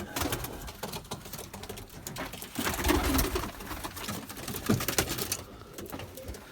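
Pigeons coo close by in a coop in repeated soft, throaty calls, mixed with rustling and fluttering.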